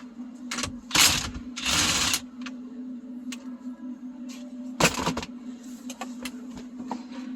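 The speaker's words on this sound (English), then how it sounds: "the next thing you're going to want to do is remove the center bolt" Ratchet and wrench clicks and metallic bursts as a 21 mm socket loosens the steering wheel center bolt on a Kia Sportage, with a steady hum running underneath and several loud broadband bursts.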